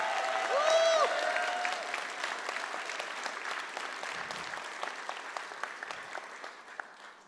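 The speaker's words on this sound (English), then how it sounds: "a round of applause for the dedicated staff at Berkeley Journalism who made this all possible" Commencement audience at a Berkeley Journalism graduation ceremony applauding the staff, a broad sustained wash of clapping that starts full with a brief whistle-like tone near the start and slowly thins over seven seconds.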